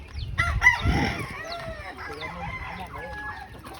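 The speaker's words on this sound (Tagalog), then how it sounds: "Ito po yung manok niya oh" A rooster crows amid a busy backyard farmyard, with scattered chirps and clucks from other birds, turkeys nearby, and faint voices in the background.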